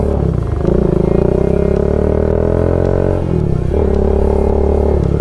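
Bajaj Dominar 400 motorcycle on a test ride, its engine droning steadily with a pitch that climbs, drops briefly as a gear is shifted just past three seconds, then climbs again, loud and continuous with wind rush.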